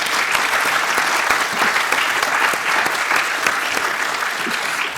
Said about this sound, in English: I might throw to wild applause for our 2 speakers today.